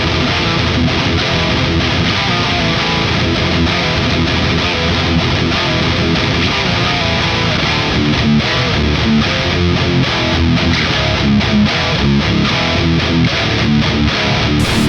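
Heavily distorted metal electric guitar through an amplifier's red high-gain channel, playing dense, loud chugging riffs continuously with no talking.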